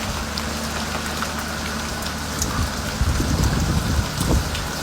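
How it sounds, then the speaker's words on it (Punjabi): Heavy rain falls steadily during a hailstorm in Punjab farmland, a dense, continuous hiss of drops drumming on surfaces that thickens slightly toward the end, with no voices. "ਇਹ ਮੀਂਹ ਵੀ ਕਾਫੀ ਪੈ ਰਿਹਾ"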